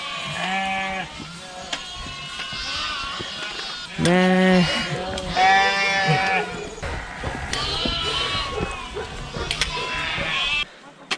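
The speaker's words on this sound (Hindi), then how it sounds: "एंड यहाँ पे बहुत सी भेड़ें" Many sheep bleat on a mountain trail in Nepal's Annapurna Circuit trek region, several overlapping wavering calls close by, some loud and others fainter, continuing throughout.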